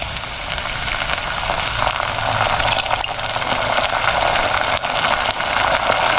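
Coconut milk hits a hot pan of sautéed onions, garlic, ginger and chilies for Filipino ginataang kuhol. The result is a loud, dense, continuous sizzle and bubbling that holds steady throughout.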